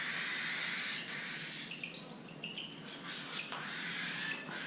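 Pet bird named Sunny chirping in short bright bursts, a few quick calls clustered together over steady background hiss, fairly close and moderately loud, with no talking.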